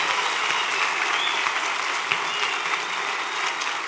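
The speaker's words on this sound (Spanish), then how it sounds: "Aplauso para el Señor por esta familia." Steady applause from a church congregation at a celebration, dense clapping holding at an even level throughout with no voices standing out.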